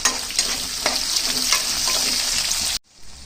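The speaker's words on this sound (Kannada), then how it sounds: "ಈರುಳ್ಳಿ ಸ್ವಲ್ಪ ಚೆನ್ನಾಗಿ ಬೇಯಲಿ." Onions sizzle and fry in a pan for a sprouted horse gram rasam, a loud, close crackle with stirring scrapes that stops abruptly near the end.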